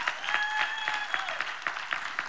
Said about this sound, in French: on va applaudir Jésus d'abord